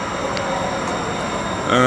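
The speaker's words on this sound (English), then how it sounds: "His train, there's that train." A train rumbles past with steady broadband noise throughout, then a brief horn-like tonal blast near the end, heard at moderate distance.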